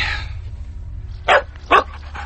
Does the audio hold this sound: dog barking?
yes